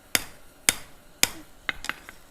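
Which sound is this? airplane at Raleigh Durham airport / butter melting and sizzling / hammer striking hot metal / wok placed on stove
hammer striking hot metal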